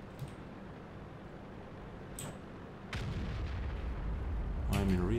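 Tank cannons boom in the World of Tanks video game during a heavy-tank battle, with several sharp blasts over a constant rumbling engine and battle bed, one louder shot followed by a ringing metallic tail.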